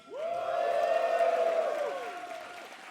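A crowd at an esports match cheers and applauds, a dense roar of claps and whoops that swells and then slowly fades, with a long sustained whistle-like tone running through it.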